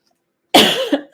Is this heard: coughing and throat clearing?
yes